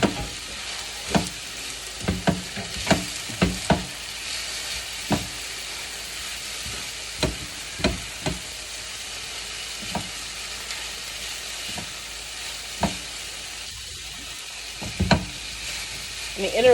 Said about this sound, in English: once I stir this in, it'll get its color